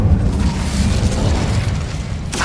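An Incendio fire spell erupts in the Hogwarts Legacy video game, a loud, sustained roaring boom with dense low rumble that holds steady before a brief bright burst near the end.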